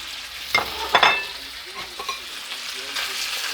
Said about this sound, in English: First of all, we fry the meat.